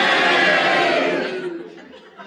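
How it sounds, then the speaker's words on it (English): A 1972 radio panel show's studio audience erupts in a loud burst of mixed cheers and boos that fades over about two seconds. "If you agree with Grovel. Sheila's challenge, will you cheer? And if you disagree, will you boo?"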